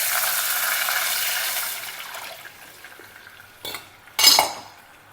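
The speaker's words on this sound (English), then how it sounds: "Hing, curry leaves, then add in this tamarind extract." Tamarind extract poured into a pot of hot oil with hing and curry leaves, a fading sizzling hiss followed by two sharp clinks of a utensil against the pot.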